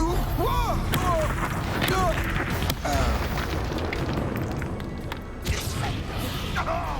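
The Confringo explosive spell in Hogwarts Legacy goes off repeatedly during a spell-casting fight, with booming blasts, crackles and whooshes layered over continuous combat effects, grunts and voices.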